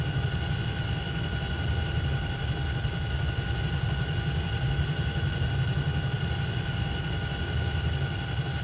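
Steady engine drone of an H47 helicopter in Flight Simulator X, with a constant low rumble and unchanging high-pitched whine that holds evenly throughout.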